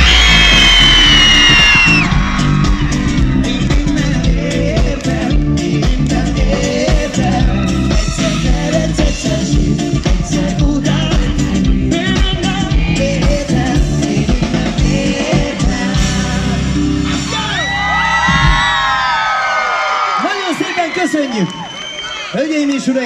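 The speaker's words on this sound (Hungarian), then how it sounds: "csak sikítunk, ahogy csak lehet" A live concert crowd at a show in Nagykáta screams as loud as it can, a dense, sustained roar of many voices that rings on loudly before dropping off near the end, with amplified voices and music.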